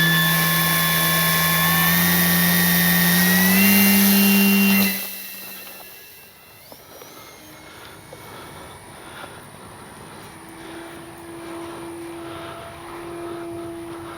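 A Durafly Excalibur V2 RC airplane's electric motor whines loudly at full power, pitch shifting upward, then drops away sharply as the plane flies off, leaving a faint distant hum.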